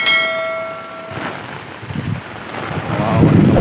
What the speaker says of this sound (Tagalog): Maraming lakas ng hangin.